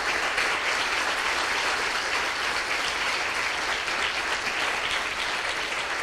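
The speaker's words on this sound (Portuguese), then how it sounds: "Se você crê, aplauda o nome do Senhor nessa noite." A church congregation applauds during an evening service, a dense, even wash of clapping that holds steady at a moderate level for the whole stretch with no break.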